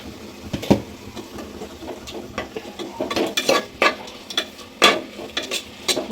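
Tomato and coriander powder frying in a pan for a cauliflower kurma, with a spoon scraping and clinking against the metal and a soft sizzle underneath, in close, irregular stirring bursts and no talk.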